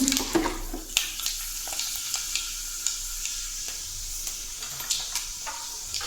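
Fenugreek and mustard seeds sizzle in hot sesame oil while a spoon stirs them, making a continuous frying hiss broken by sharp scraping clicks and taps against the pan.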